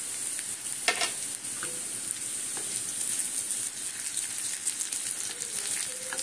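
Peanuts drop into hot oil and butter with curry leaves in a pan and sizzle steadily, a bright crackling hiss with small pops, close and moderately loud, with no voices.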